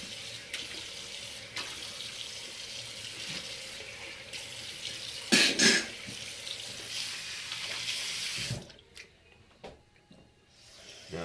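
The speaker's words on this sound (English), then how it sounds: "With hot water. The hot water opens the pores up so I can get the other soap in my face or around my beard area." Hot water running from a bathroom sink tap before a shave gives a steady, close rushing hiss, broken by a brief clatter, before the flow cuts off near the end.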